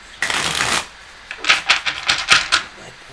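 Tarot cards being shuffled up close, a short riffle followed by a run of quick, papery snaps and flicks, loud and with no talking.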